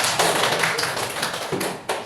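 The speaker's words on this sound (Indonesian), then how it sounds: "Kasih tepuk tangan untuk dia." An audience in a classroom during an Islamic religious education lesson claps steadily, a dense, close, continuous burst of applause with no talk over it.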